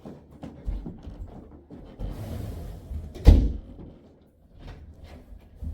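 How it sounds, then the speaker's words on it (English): An interior house door being pushed shut and latched with a turn of its knob, giving a few soft handling knocks and rustles, then a single sharp latch clack near the mic, followed by quiet handling. "You do have to turn the knob to close the door,"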